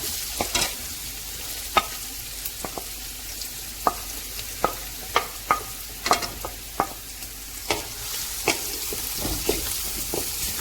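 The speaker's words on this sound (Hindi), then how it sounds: "जब ऑयल गर्म हो जाएगा तो हम सबसे पहले प्याज डाल देते हैं।" Onions frying in hot oil: steady oily sizzle with a spoon scraping and clinking against the pan at irregular intervals, close and clear, no talking.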